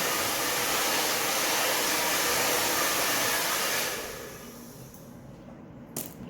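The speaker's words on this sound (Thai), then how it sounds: "นี่เราก็เป่าแห้งเลย" Hair dryer blowing steadily and loudly while drying fine, thin hair after a straightening treatment, then cutting off near the end, leaving quieter room noise.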